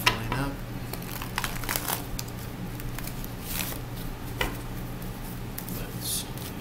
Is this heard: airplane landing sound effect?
no